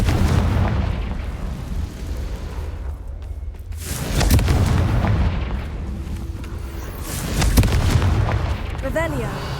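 Explosions from the Confringo fire spell in Hogwarts Legacy, loud booming blasts repeating every few seconds over a steady roar of combat noise, with a voice shouting alongside.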